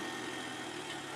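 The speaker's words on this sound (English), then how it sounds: "I gotta freaking use my engine to brake because the brakes are pretty much non-existent with the bike" Pit bike engine braking on a downhill street run, a steady droning motor note with a rough low rumble, close and continuous for a brief moment with no talk.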